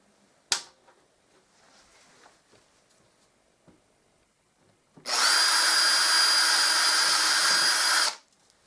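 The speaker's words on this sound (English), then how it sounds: "So here I'm going to put a self-drilling plug, but I've took the spade off the end." A self-drilling wall plug with its spade tip removed is driven into plasterboard by a power drill, giving a loud, steady whirring grind of about three seconds after a sharp click and quiet handling noises.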